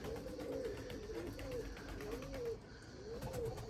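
Pigeons coo softly in repeated rolling phrases, close by, over a steady low background hum.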